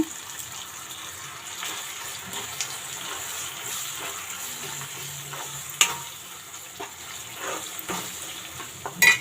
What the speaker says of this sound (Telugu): వేసేసి ఒకసారి బాగా కలిపేసుకుందాము